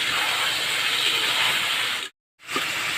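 Ridge gourd fries in hot oil with a little turmeric, a loud continuous hiss that cuts out briefly, then resumes.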